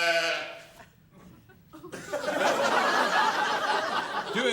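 A sheep bleats in a wavering, nasal call up close, then falls quiet before a busier stretch of bleating and chortling audience laughter swells and holds.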